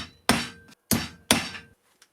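A Makita impact driver at its highest speed drives a 100mm button screw in three sharp, loud rattling bursts, each roughly half a second long, separated by brief silences.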